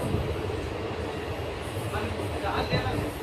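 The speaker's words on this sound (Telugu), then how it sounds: "ట్రైన్లో ప్రయాణం చేస్తున్నాను" A moving train rumbles steadily with a dense, continuous low roar, and faint voices murmur under the noise.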